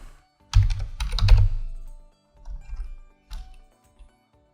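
Code being typed on a computer keyboard, a close run of rapid key clicks followed by a few shorter bursts and single taps, no speech.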